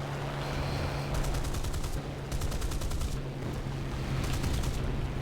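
Aircraft cannons fire in the War Thunder air combat game during a chase of a Yak fighter, rapid bursts of gunfire in three separate volleys over a constant droning engine hum.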